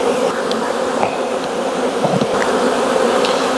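Honey bees buzz steadily around an open hive colony during a walk-away split, a dense continuous drone with a few louder individual bees passing close.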